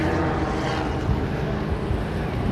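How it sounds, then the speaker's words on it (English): A helicopter passes overhead above a renovated Orlando bay-side resort, a steady, loud, broadband rotor and engine roar that fills the whole stretch without letting up, with no voices over it. "Got a helicopter flying over."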